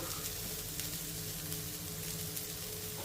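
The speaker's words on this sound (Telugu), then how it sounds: "ఇప్పుడు ఈ ఉల్లిపాయ ముక్కల్ని ఒక నిమిషం ఫ్రై చేసుకోవాలి" Chopped onion pieces sizzle steadily in hot oil in a pan for a Rayalaseema village-style meal, a dense continuous crackle close by with no talking.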